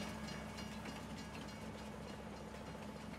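Inside Farming Simulator 19, a train rolls along rails with a steady mechanical rumble and faint rhythmic clicking, a continuous even sound with no voices.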